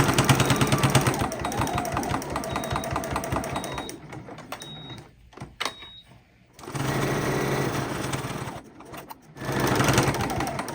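A sewing machine stitches a quilted thread catcher in fast, steady bursts of close mechanical chatter, pausing briefly mid-run before starting up again, with no talk over it.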